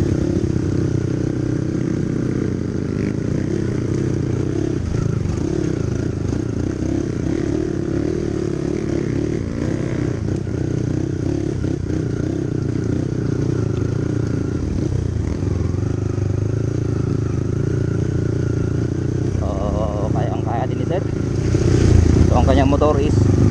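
A Honda CRF 150L motorcycle on a mountain trail, its engine droning steadily and fairly close, with a rougher burst of revving and clatter near the end.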